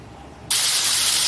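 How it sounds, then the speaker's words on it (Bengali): Salted, turmeric-coated tangra fish dropped into hot oil, bursting into a loud, close, continuous hissing sizzle after half a second of quiet. "ধুয়ে এবার ভাজা করব। আর এই তো খুব ফুটবে"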